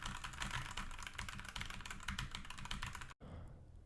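Rapid, continuous typing on a KBMSCITH ZA9810 mechanical keyboard with red switches, its clunky keystrokes close and dense with no pauses, stopping abruptly near the end.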